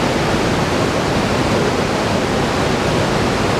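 Creek water rushes steadily along a section of a gold-prospecting stream, a loud, dense, unbroken roar filling the whole stretch with no voices.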